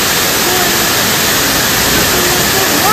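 Rani Duduma waterfall in Odisha pours down in a loud, steady roar of falling water, a dense unbroken wash of noise from start to finish.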